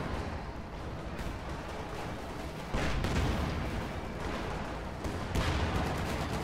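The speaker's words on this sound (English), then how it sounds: "Jagdtiger still firing" A Jagdtiger tank fires in the WWII strategy game Company of Heroes 2, with heavy booming cannon blasts and gunfire in a dense battle din. Loud impacts come around three and five seconds, with no talk.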